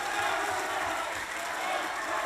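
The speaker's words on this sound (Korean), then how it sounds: "뜨거운 박수 부탁드리겠습니다." A large crowd at a People's Party political rally in Gyeonggi Province applauds and cheers. The clapping is thick and continuous, with a crowd roar at a steady level throughout.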